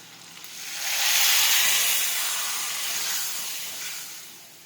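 Boiled dal is poured into a hot tempering and sends up a loud rushing hiss of steam that swells within the first second and then slowly fades, close with no talk.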